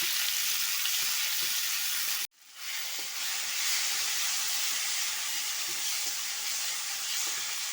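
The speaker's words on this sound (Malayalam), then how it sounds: "നമ്മൾ അരിഞ്ഞ് വെച്ചിരിക്കുന്ന തക്കാളി ഇട്ട് കൊടുക്കാം നല്ലപോലെ വഴറ്റിയെടുക്കണം" Chopped tomatoes sautéing in a pan, giving a steady, close hiss of frying that briefly cuts out and then returns at the same even level, with no voices.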